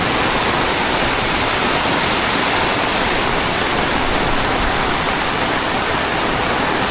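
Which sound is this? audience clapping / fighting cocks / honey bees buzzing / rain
rain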